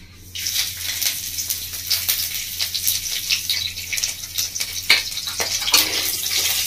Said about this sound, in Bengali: তো বন্ধুরা, এটা আমি ফোড়ন দিয়ে দিচ্ছি।